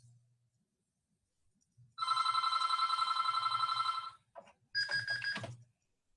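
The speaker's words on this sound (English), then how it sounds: "let me turn off my phone here" A mobile phone rings indoors in two loud bursts of repeated electronic tones. A short pause separates them, and no one speaks over the ringing.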